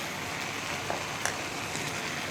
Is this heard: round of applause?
no